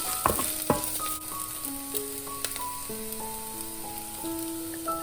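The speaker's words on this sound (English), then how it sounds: "We can drop shitake. Just a minute stir fry." Shiitake mushrooms stir-fry in a pan for vegan rainbow fried rice, giving a steady sizzle with scraping stir strokes, a few sharp clanks early on, and a tonal ringing pattern running over the top.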